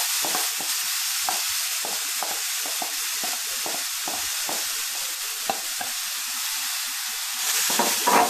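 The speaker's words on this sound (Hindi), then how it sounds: "मैं फिर गाजर को 5 से 7 मिनट तक ऐसे भून लूंगी गैस पे।" Grated carrots for gajar halwa fry in a hot pan on a gas stove, giving a steady loud sizzle with repeated scraping stirs, alone without talk.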